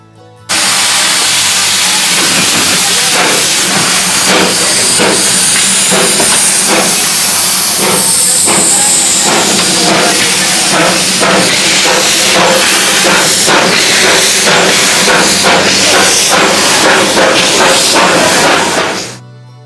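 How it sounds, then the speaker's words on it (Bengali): Darjeeling Himalayan Railway steam toy train at a station platform, giving a loud, continuous close-up hiss of steam with rapid rhythmic chuffing pulses throughout, cutting off abruptly at the end. "এই যে এই টয় ট্রেনটা করেই আমরা যাব"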